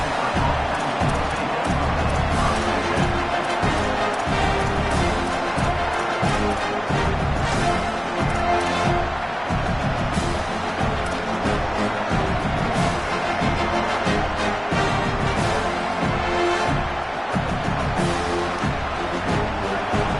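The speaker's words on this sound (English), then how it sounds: "This crowd trying to make life miserable for this offense." A packed football stadium crowd at a Stanford versus USC game makes a loud, continuous roar aimed at the offense, with cheering swelling throughout and no break in the noise.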